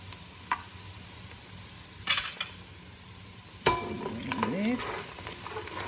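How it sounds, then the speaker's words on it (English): Garlic and ginger frying in a pan for jollof rice, a low steady sizzle with a few sharp utensil clinks and scraping stirs against the pan, moderately quiet. "frying the garlic and the ginger first diffuses this beautiful aroma all in the house"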